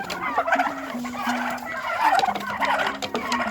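Overlapping gobbles from a group of turkeys repeat in bursts, nearby and fairly loud, with a faint background hum and no voices.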